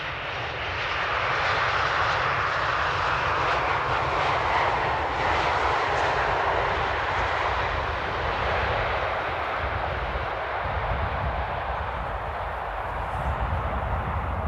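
A fixed-wing airliner lands at Amsterdam Airport in the early morning, its engines a loud, sustained broadband roar that holds steady for the whole stretch and eases only slightly toward the end.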